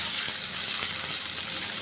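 A glass of water is poured into a pot of masoor dal khichdi seasoned with cumin and salt, making a steady close gushing and splashing that runs without a break, with no voices.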